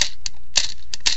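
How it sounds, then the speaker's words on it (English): A high-capacity airsoft magazine gives off a quick series of sharp mechanical clicks, close and crisp, at an uneven rhythm within about a second. "when you're done with the HiCap mag, though, you hear this clicking noise."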